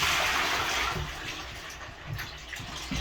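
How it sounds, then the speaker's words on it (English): Water is poured from a filter housing into a sink during weekly water-filter cleaning, a steady rushing splash that tapers slightly over a few seconds, close and alone. "Bring it over here to the sink and just dump it out."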